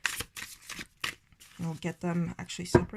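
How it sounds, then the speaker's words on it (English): Playing cards from a newly arrived Kickstarter deck are shuffled overhand, and the cards riffle in quick bursts between phrases of close talking. "if I shuffle just overhead like this, I do have clumps"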